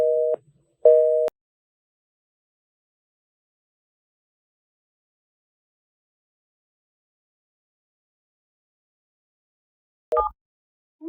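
An Airtel mobile gives a telephone call tone: two short, clean beeps in quick succession, then a long silence before another beep begins, with no other sound around them.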